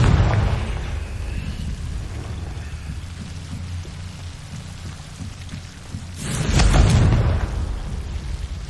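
A Confringo fiery blast spell from Hogwarts Legacy erupts as a loud, broad whooshing boom that swells and fades over a second or so, set against a long stretch of steady hissing ambience.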